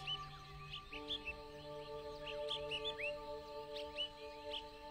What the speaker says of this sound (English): all you can hear are the sounds of your own footsteps and the birds chirping in the distance.